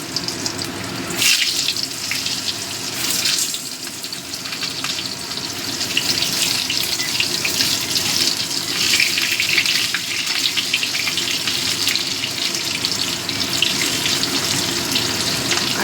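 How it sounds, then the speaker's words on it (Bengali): Potatoes frying in hot oil in a pan already tempered with five-spice, a steady bright sizzle and crackle running unbroken at close range with no talking. "আলুগুলো একটু ভেজে নেব।"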